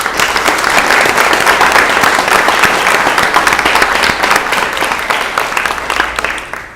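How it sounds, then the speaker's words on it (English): Sustained, loud applause from a large crowd at a student council recognition breakfast, dense clapping that fills the whole stretch and tapers slightly toward the end. "let's give him a round of applause also"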